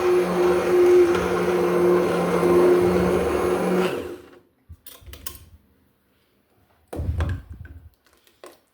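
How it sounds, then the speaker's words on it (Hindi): A hand blender mashing cooked lentils for dal whirs loudly for about four seconds, then stops; a few short bursts and clunks follow, with a quieter whir near the end. "बस 1-आधा मिनट ना हैंड ब्लेंडर चला देती हूँ इसमें"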